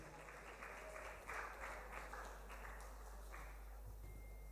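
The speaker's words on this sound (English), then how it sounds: "A round of applause for him." Audience at a secondary school debate competition applauds in a fairly faint, even patter of clapping with a few louder bursts, heard alone without talk.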